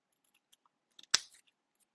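Scissors snipping through colored paper, one sharp loud cut standing out among a few faint clicks and rustles in a quiet room.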